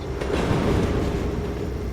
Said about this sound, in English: Well, it was a real train.